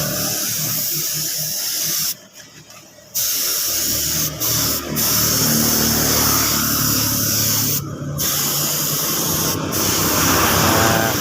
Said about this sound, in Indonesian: Nah, ini kita semprot sekali lagi seperti ini.